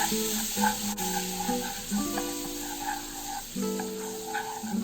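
Eggs frying in a pan and slowly stirred while making egg pickle: a steady, moderate sizzle with light stirring scrapes, heard under melodic background music.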